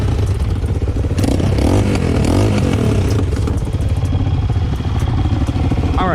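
A Chinese dirt bike engine runs and revs hard, loud and close, with mechanical clatter and a scraping sound as it surges while in gear.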